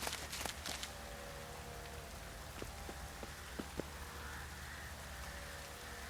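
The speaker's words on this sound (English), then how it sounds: "Looks like rain." Steady rainfall patters in The Witcher 3 video game, a soft continuous hiss with a few sharper drop ticks and faint clicks scattered through, no voices.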